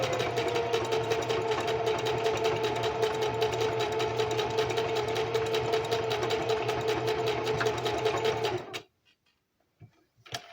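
A sewing machine runs fast and steady, reverse stitching and then stitching forward, with a dense rapid mechanical chatter for about eight seconds before it stops abruptly, leaving near silence with a couple of faint clicks.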